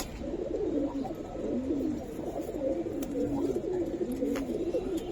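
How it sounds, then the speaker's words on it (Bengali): Young Giribaz pigeons coo in repeated, rolling, throaty phrases close by, a continuous low murmur over faint background noise. "দুটোটাই একেবারে ইয়াং কবুতর।"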